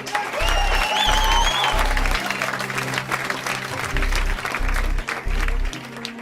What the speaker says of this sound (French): Bravo à vous, on peut vous applaudir.